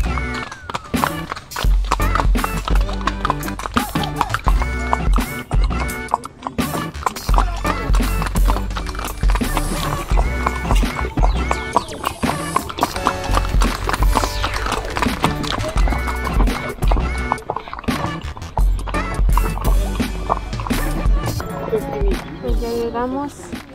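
Horses clip-clop along a ranch trail on a horseback ride toward San Juan Chamula in Chiapas, steady hoof beats running throughout beneath loud, dense music and voices.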